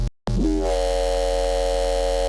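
A Serum 2 synth preset with its snap heap effects switched off: a sustained, steady harmonic drone with a low bass hum, entering after a brief gap and holding evenly loud to the end.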